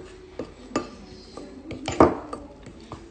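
Spoon clinking and scraping against a glass while mixing a drink from a berlingot pouch, a few sharp metallic taps spread over a few seconds with one louder clatter near the middle, fairly close.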